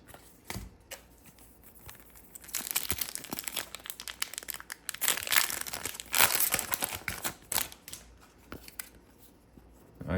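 Panini Haunted Hoops basketball card packs are torn open up close with continuous crinkling and crackling of foil wrappers, with bursts of tearing that grow louder midway.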